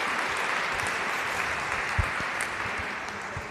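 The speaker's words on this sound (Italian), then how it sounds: "Facciamo un applauso al dottor Zampolini" A steady wash of applause fills a lecture hall as the audience welcomes a doctor who arrived late, even and sustained with a few sharper claps standing out.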